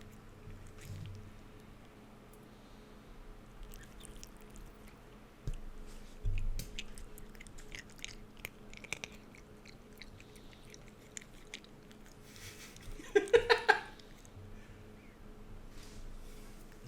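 A dog chews treats with faint, sporadic crunching and wet munching sounds, quiet and close, with a brief louder burst of chewing near the end.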